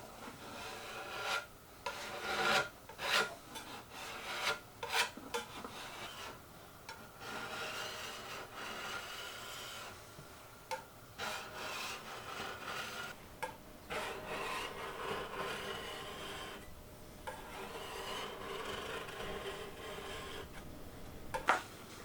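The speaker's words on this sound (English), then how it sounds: "the varnish came off without much of a struggle using a stripping knife and some steel wool" Stripping knife and steel wool scraping and rubbing old varnish off a wooden Georgian folding tea table, a steady stream of rasping strokes with short pauses between bursts, close and moderately loud with no talking.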